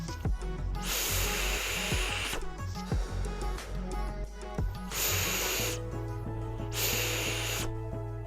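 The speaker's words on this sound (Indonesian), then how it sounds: "ini kita dengar dulu bagaimana sirkulasi udaranya ketika kita puff ya" Air rushes through the Cyclops airflow of a Dead Rabbit V3 RDA vape during puffs, heard as three bursts of breathy hiss over steady background music.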